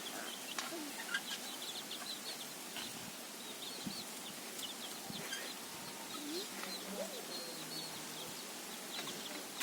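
Young chickens cluck and peep softly, fed greens in a pen. Scattered calls rise over a quiet, hissy background.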